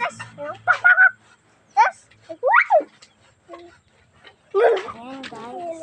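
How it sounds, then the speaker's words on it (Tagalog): Short squawking chicken calls repeat in irregular bursts close by, with a rising honk-like cry near the end. "Manok ko pala yan eh."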